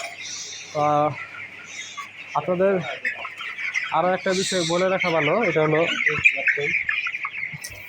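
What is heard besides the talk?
broiler chickens clucking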